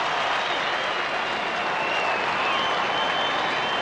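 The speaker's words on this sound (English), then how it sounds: "The fans go mad." Football fans cheer and applaud at the 1990 Grand Final between Port and Glenelg, a dense, loud, continuous roar of crowd noise with clapping that stays steady throughout.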